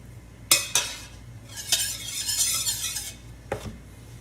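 Margarine goes into a hot pan on a stove for shrimp fried rice, with a few sharp utensil scrapes and clicks against the pan over a soft sizzle, close and fairly quiet.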